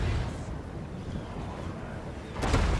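Artillery and cannons firing in a Total War: Warhammer battle between Dwarf armies: a low, constant battle rumble with one sharp, close boom near the end and a faint earlier thud.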